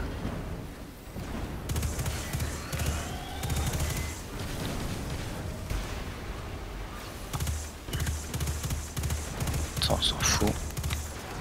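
Destiny 2 gunfire from rocket launcher, shotgun and other weapons crackles in repeated bursts and booms throughout, with a sharp cluster of shots near the end, sounding under and between steady talk from a player.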